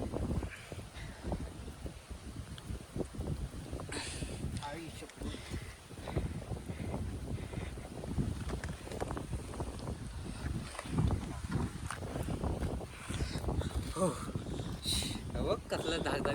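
Gusty wind buffets the microphone in uneven rushes throughout atop Gandharvagad Fort, Chandgad, with people talking intermittently underneath.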